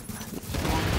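Rapid gunfire from a firefight in The Division, a third-person shooter game, as a dense burst of shots that swells louder in the second half.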